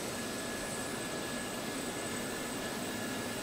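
A Gazelle helicopter's turbine engine drones steadily in a flight simulator game, a constant dense whooshing roar with a thin high whine and no talking.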